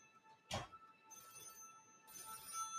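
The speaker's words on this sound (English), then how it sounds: "I need Betty to answer the phone." A telephone bell rings faintly in two separate bursts, its metallic trill sounding fairly distant in an otherwise quiet room.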